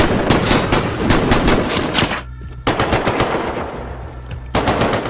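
Machine-gun fire in a shootout scene from a 2022 action film, loud and close, coming in three sustained rapid bursts separated by brief pauses.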